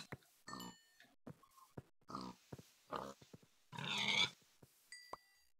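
Minecraft pig grunting in short, separate bursts, a handful of oinks spaced across the moment, with a longer squeal-like grunt near the end and quiet gaps between.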